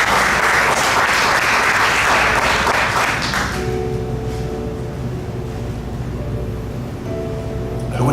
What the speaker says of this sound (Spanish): Denle un aplauso bien fuerte